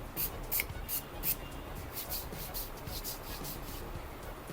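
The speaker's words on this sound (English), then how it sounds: "I also have spray sunscreen for my hands and my neck" Several short hissing bursts from a sunscreen spray bottle come in quick succession, fairly faint, followed by soft rubbing and shuffling sounds.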